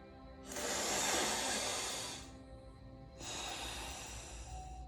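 Slow, deliberate breaths drawn through one nostril during alternate nostril yoga breathing: a long, close, airy inhale of about two seconds, a short pause, then a similarly long hissing exhale, with no talking.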